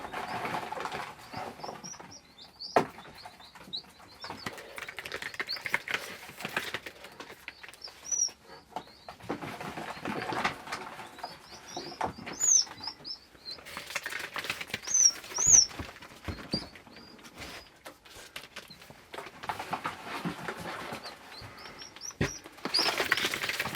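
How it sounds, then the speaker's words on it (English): Newly hatched pheasant chicks scurry about, with soft pattering steps and rustles broken by thin high peeps and chirps, fairly close and uneven, no talking. "That's a lot of pheasant chicks, and they're going everywhere."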